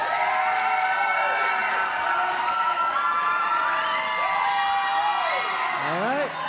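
A convention panel crowd at Star Wars Celebration cheers and whoops for Poggle the Lesser, a dense, steady wall of voices with shrill rising shouts, loudest near the end as whistles and yells climb.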